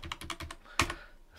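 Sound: typing on a computer keyboard

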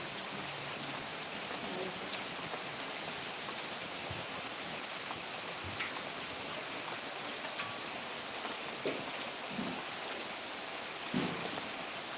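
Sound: rain falling

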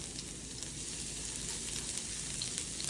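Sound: minced garlic sizzling as it fries in hot oil

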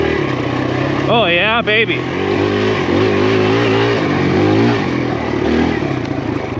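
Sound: Kawasaki KLX140RF enduro motorcycle engine revving while riding

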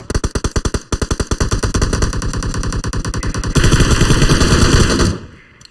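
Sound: gunfire in a video game

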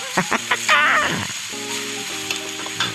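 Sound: stir-frying spinach in a pan, sizzling

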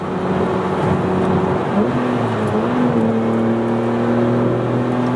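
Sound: BMW M3 custom exhaust revving

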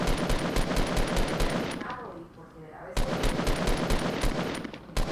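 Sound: gunfire in the video game Fortnite

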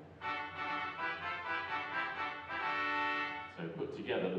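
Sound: English horn reed stop on a Wurlitzer theatre organ

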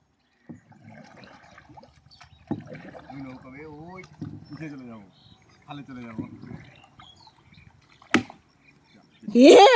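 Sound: rowing a boat on water

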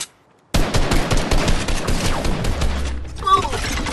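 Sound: gunfire

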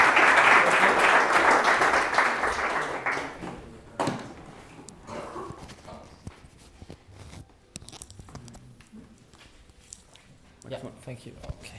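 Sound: audience applause at meetup

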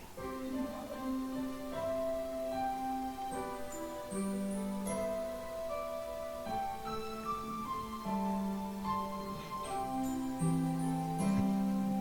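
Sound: oboe playing

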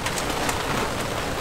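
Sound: rain

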